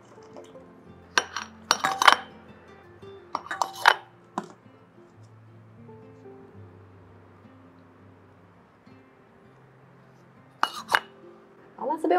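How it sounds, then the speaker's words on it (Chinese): Cooked konjac is knocked out of its molds while making a vegan braised 'pork trotter' dish, giving a few bright clinks and clatters of hard containers in small clusters, separated by quiet pauses. "先让它脱模"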